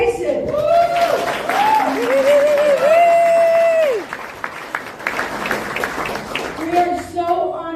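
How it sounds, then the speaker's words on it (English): A live show audience applauds Mike Tyson loudly, with dense clapping and high whooping cheers over it that ease off partway through. "let's give a huge round of applause for Mike Tyson"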